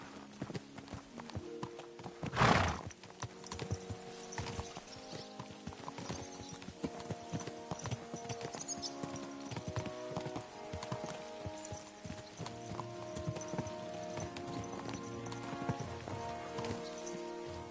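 Horses ridden at a steady pace in Kingdom Come: Deliverance II, hooves clip-clopping in a continuous rhythm under a background musical score, with one loud thump near the start and an occasional whinny.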